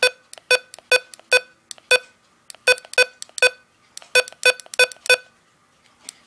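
A Midland HH54VP2 weather radio gives a series of short, sharp electronic beeps in irregular bursts as its buttons are pressed, close and clear against near silence.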